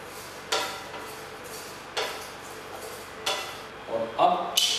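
A spoon stirs whole spices such as split black cardamom in a pan, making a few separate scraping clinks against the metal, close and moderately loud with quiet gaps between strokes.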